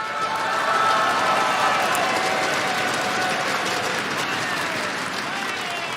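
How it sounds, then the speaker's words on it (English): A large crowd applauding at a Counter-Strike esports event in Espoo, Finland, a dense, loud, continuous wash of clapping and cheering that fills the whole stretch, with voices mixed in. "So you can applaud yourself for that"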